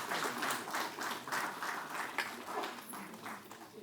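Audience clapping at the launch event for the Delhi Tourism App, heard as a rhythmic round of claps in unison, pulsing steadily at moderate volume with no talk over it.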